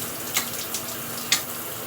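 Shower water runs continuously in a bathroom while someone washes natural hair, a steady broad hiss with a couple of brief splashing bursts, close and fairly loud.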